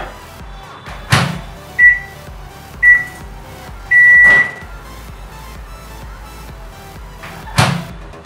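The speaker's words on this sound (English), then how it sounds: "So we will microwave this for 30" A microwave oven melting salted butter: door slams open and shut, several short beeps from the keypad, then a longer tone, with the hum of the kitchen in between and no talking.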